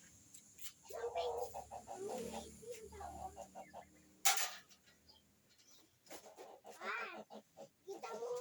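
A chicken clucks in a series of short, nasal calls in irregular bursts, close and fairly quiet, with a sharp knock midway and a longer, wavering cackle near the end.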